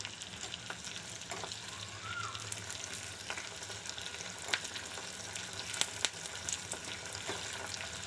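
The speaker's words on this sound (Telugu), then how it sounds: "కొంచెం ఎరుపు రంగు వచ్చేంత వరకు కూడా దీనిని వేయించుకోవాలి." Dried red chillies, cumin seeds and curry leaves fry in oil in a pan over low heat, a steady soft sizzle with occasional light pops and scrapes of stirring, no voices.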